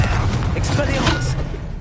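A spell-casting effect in Hogwarts Legacy, a short booming whoosh with a thud-like impact, heard loud under a voice shouting the incantation.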